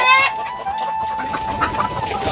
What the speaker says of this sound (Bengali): এখানে দেখা যাচ্ছে কিছু ডিম পেরে পেরে রাখছে মুরগি।